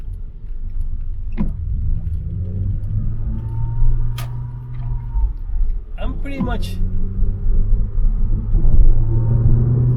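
A 2008 Porsche Cayman 987 rumbles along small roads with a steady low engine drone and road noise close up, while someone talks over it inside the cabin.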